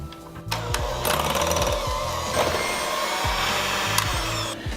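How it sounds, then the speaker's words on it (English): Electric mixer beating softened cream cheese for a chocolate and peanut butter cheesecake, a close, steady motor whine with chattering beaters churning the thick mixture throughout. "I have here softened cream cheese and we're gonna beat it until it's super creamy"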